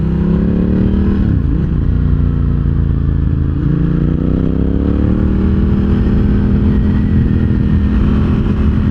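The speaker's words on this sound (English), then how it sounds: "The engine, it barks and burbles and pops and crackles at the low revs." A Ducati Hypermotard 1100 EVO SP engine runs steadily throughout a ride, a loud, continuous low burble with a brief dip in revs near the start, then climbing smoothly, close and alone with no talk.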